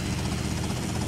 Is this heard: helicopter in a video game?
yes